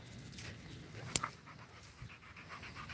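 A dog recovering from a broken leg panting softly during an indoor training session, a steady low breathy rhythm with one sharp click partway through, fairly quiet and close.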